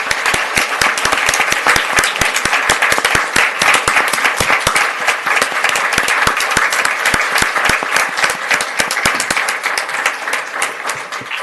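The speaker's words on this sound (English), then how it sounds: "Let's give him a round of applause." Loud, sustained audience applause at an evening ceremony naming a band hall, many hands clapping in a dense, even roar with sharp individual claps popping through, close and unbroken for the whole stretch.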